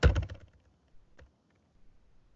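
A short burst of computer keyboard typing, a quick cluster of close key taps followed by a few isolated clicks in an otherwise quiet room.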